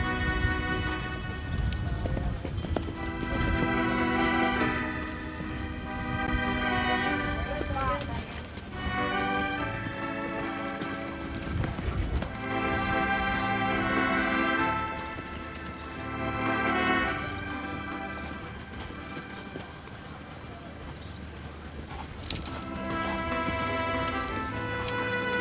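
A horse canters at a horse show, its hooves clip-clopping in a rhythmic beat under a loudspeaker announcer and background music.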